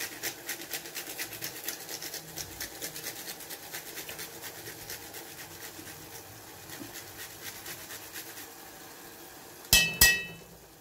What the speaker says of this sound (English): We grate in our pili pili.